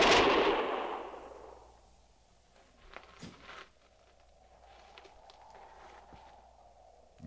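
Gunfire in a radio drama set at Fort Laramie: a loud burst fades quickly, followed by a few faint scattered shots and a light, distant rumble.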